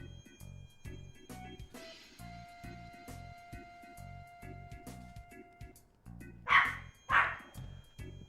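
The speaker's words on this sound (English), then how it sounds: "Dog is barking." A dog barks twice in quick succession near the end, loud and fairly close, following several seconds of steady rhythmic thumping and a sustained tone with no barking.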